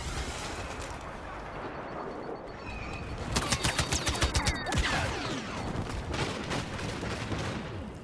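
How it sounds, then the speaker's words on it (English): Infantry turret gunfire in Star Wars Battlefront, a rapid rhythmic burst of repeated shots over a continuous noisy battle background, loud and close, with scattered further firing afterward. "Now this is a clip from the same match where I get killed by an infantry turret that doesn't even tell me it's locked onto me until I die"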